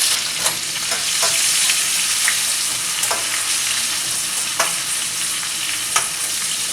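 Steak searing in a hot pan, a loud, dense, steady hiss of frying fat with a few sharp crackles and pops scattered through it, close up, no talking.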